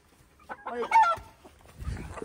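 Desi and Sil hens give a short burst of clucking and squawks close by, followed by scuffling and thumps of handling.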